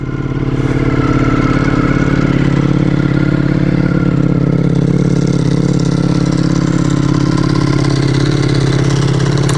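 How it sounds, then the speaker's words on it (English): A Ducati Multistrada V4 RS V4 engine with a dry clutch idles steadily and close by after a cold start, giving a loud, throaty, continuous rumble that stays even throughout. "typical V4 sound. Nice and throaty, got the dry clutch going there."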